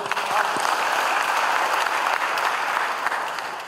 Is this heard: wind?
no